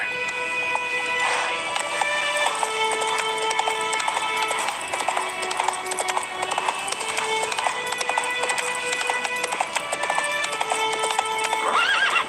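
Hooves clip-clop in a fast gallop and a horse neighs, loud and close, against a continuous musical score in The Witcher 3.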